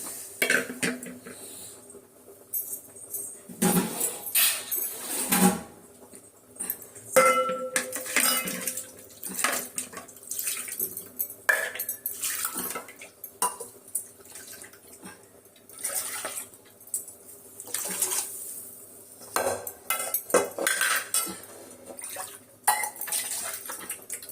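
Dishes and metal pots clatter as rasam with dissolved tomato and curry leaves is poured into a pot, liquid splashing and pouring, busy kitchen handling sounds throughout, no talking.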